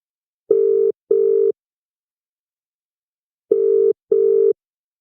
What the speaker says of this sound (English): I'll ring him again. He might pick up.